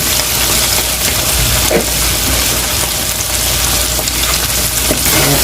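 Seasoned food frying in a pan while being stirred, a loud, continuous crackling sizzle close up, broken by scraping stirs, with no talking.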